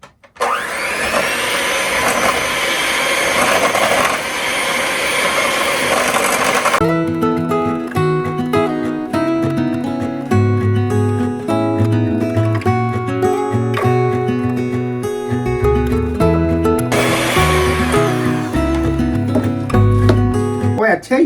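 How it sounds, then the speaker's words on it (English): An electric hand mixer creams butter and sugar for classic yellow cake batter with a loud, steady motor whir for about seven seconds. Music then takes over and plays loudly to the end. "you forget how intense using a hand mixer is"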